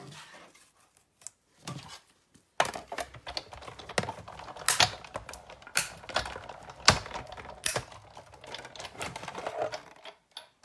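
A die-cutting machine cranks ovals through a precision plate: a steady run of soft, irregular clicks and mechanical rattles, fairly faint and close, with no one talking.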